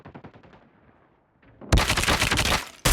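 Machine gun fire in a first-person shooter video game: a rapid burst of shots, a brief pause, then a loud, dense, sustained volley of automatic gunfire up close.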